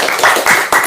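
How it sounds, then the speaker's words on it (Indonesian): A small group claps in short, dense bursts at close range, loud and fairly steady for under a second with slight pulses in intensity. "Tepuk tangan dong."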